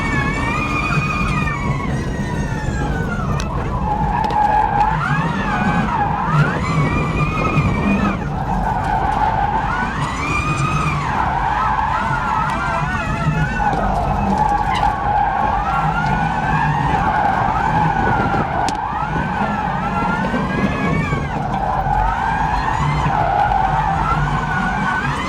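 The Ford Mustang Mach-E 1400 prototype drift car skids continuously, tires squealing and wailing with rising and falling pitch as it slides, loud and close for the whole stretch.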